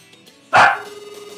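A dog in MLB Power Pros 2008 gives a single loud, close bark, followed by a faint, steady ringing tone.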